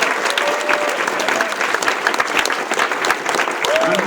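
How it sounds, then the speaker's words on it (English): A convention panel audience applauds its voice actors, dense steady clapping from a sizable crowd filling the room at close range, with a few scattered cheers and a voice briefly rising over it. "Another huge round of applause for all of our voice actors."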